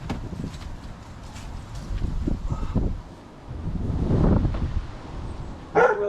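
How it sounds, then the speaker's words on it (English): Dogs bark outdoors near a wrecked 6.7 Powerstroke truck, a few intermittent barks at moderate distance amid steady wind noise and rustling. "I'm about to listen to those dogs the entire time I'm working on this truck"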